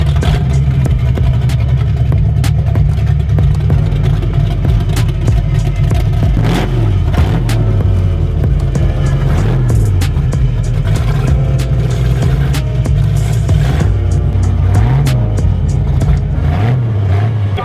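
An Abarth car revs at a car meet in Ireland. A loud, close engine drone runs throughout, with repeated rising and falling rev sweeps.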